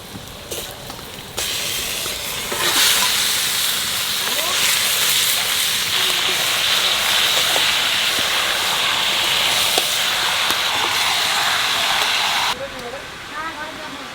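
Mutton drops into a pan of fried onions and breaks into a loud, steady hiss of sizzling that runs for about ten seconds before cutting off abruptly, with faint voices in the background.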